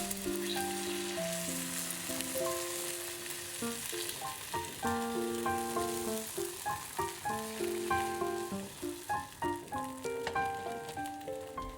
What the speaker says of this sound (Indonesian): Kita tuang telurnya tipis aja, nggak perlu banyak-banyak ya.